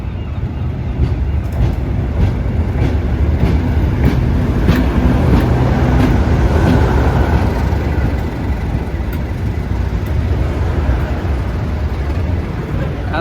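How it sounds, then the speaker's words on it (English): A vintage double-header steam train hauling Pullman coaches arrives on the Cambrian Coast line, a loud, steady rumble with rhythmic clanks and hiss, continuous and close throughout, with a voice faintly under it. "And the double header is back."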